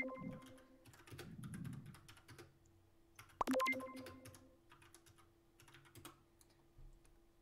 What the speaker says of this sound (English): I hear Nicholas typing